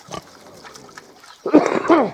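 A Hungarian Mangalica pig grunts close by, with a soft snort first and then a louder run of rough grunts.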